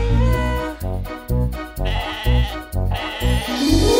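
Sheep bleating in a French children's song, repeated rhythmic bleats in a bouncy pattern set against loud music.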